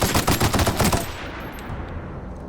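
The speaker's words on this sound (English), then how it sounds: "we have to use an assault rifle for this one" Rapid automatic assault rifle fire in the video game The Outer Worlds, a loud, fast burst of close shots lasting about a second that then fades into a quieter tail.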